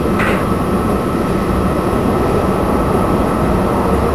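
In Train Simulator 2014, a train moves slowly through a snowy route with a loud, continuous rumble and dense rolling noise throughout, a brief higher hiss near the start and no talking.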